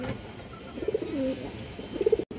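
Pigeons cooing at a pigeon farm, a few soft, low, close coos in short bursts over a quiet background.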